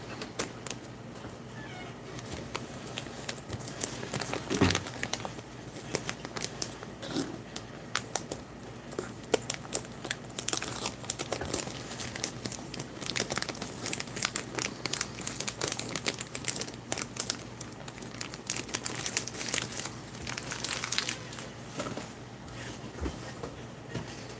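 Foil packaging of a vacuum-sealed cake from a Russian vegetarian ration is handled, producing intermittent crinkles and sharp rustling crackles spread over a low steady hum, close to the microphone, with no voices.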